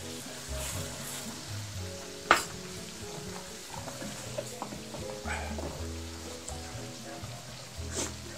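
Sour yogurt is stirred into a sizzling Katla fish curry in a pan, giving steady frying hiss with soft scraping stirs and one sharp clink of a utensil, with no talking.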